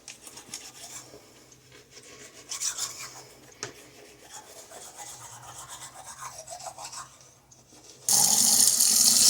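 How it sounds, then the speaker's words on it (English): A toothbrush scrubs teeth in a steady wet rasping rhythm close to the microphone, ending with a sudden loud burst of running tap water filling a sink. "Brush my teeth with me."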